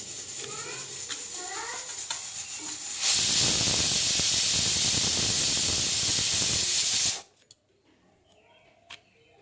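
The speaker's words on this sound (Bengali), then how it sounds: "দুধের ডালটাও কটা সিটি পড়লো" A pressure cooker cooking milk dal lets out a loud, steady hissing steam whistle for about four seconds, then cuts off abruptly into a quiet kitchen with a few faint knocks.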